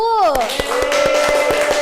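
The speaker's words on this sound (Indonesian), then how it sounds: "Tepuk tangan buat kelompok 1" Classmates in a microteaching lesson clap for group 1 in a quick regular rhythm of about eight sharp claps, close by, while a voice carries over them.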